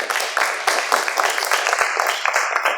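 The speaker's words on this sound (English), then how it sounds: "So please help me give Susan a round of applause." An audience gives a round of applause at an evening pitch competition event, a steady dense wash of clapping filling the room throughout.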